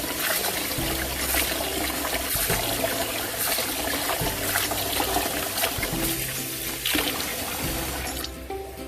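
Rinse water draining off starchy food through a strainer for a kale and okra soup, a steady splashing, trickling pour that runs loud and continuous before easing off at the end, with no talking.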